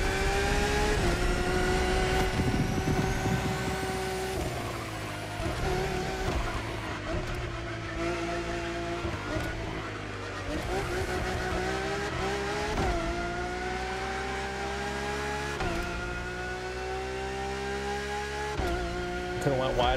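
A Lamborghini Countach in The Crew Motorfest screams steadily and loudly through a racing run, its engine note rising and falling with gear changes and shifting revs for the whole stretch.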